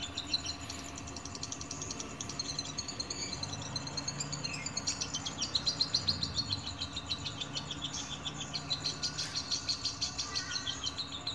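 Rapid, high-pitched chirping from lovebirds continues steadily, with repeated twittering calls over a faint background hum.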